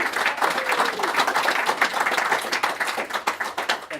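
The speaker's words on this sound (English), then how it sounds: "Big round of applause." An audience at a book review event applauds steadily for a few seconds, a dense wash of many hands clapping at close range with no one talking over it.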